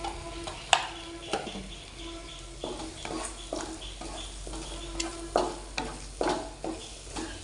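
Eggs scrambled in a pan with coconut oil, a soft sizzle under repeated scraping and tapping strokes of a spatula in an uneven rhythm, close by.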